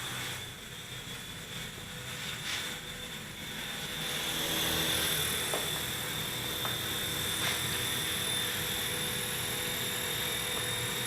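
A small Silverlit Metal Copter toy helicopter hovers indoors, its rotors giving a steady, moderately close whir with a high motor whine that swells slightly as throttle rises, with no talk.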